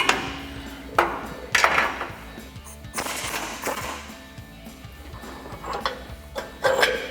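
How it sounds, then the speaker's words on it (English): Socket and wrench working a suspension bolt on a 2014-2020 Ford F-150 during a lift install, giving a few sharp, close metallic clanks and knocks at irregular intervals over a low hum, with no talking. "we'll take a 21mm socket on our bolt side and a 27mm wrench on our nut side to loosen this up"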